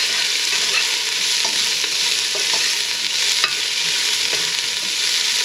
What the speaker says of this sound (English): Get our onions nice and fried and caramelized